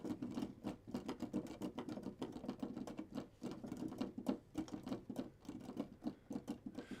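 Computer keyboard typing picked up loudly through a headset microphone, a steady run of quick, close clicks and clacks that continues without pause and with no talking over it.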